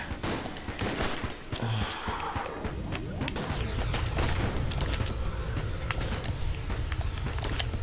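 Molotov launcher firing in Enter the Gungeon, a rapid stream of sharp popping shots and bursts layered over busy game noise and a steady low rumble, fairly quiet overall.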